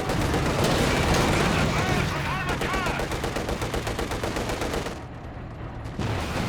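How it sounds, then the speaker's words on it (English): Cannon shots from a T-34 tank in the Company of Heroes 2 strategy game ring out amid a dense, continuous wash of battle gunfire and explosions, with a voice talking over the action. "Couple shots in the air from the T-34, but not really hitting too much."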